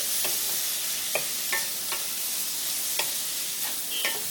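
Chira pulao, flattened rice, being stirred in a frying pan: a steady low sizzle runs throughout, with about eight light scraping strokes at irregular intervals, close and fairly soft, and no talking.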